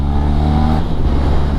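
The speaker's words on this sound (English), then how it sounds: "this exhaust is popping" Benelli TRK adventure motorcycle engine on a test ride, a loud continuous exhaust drone with steady low harmonics that roughens and crackles partway through, close and without speech.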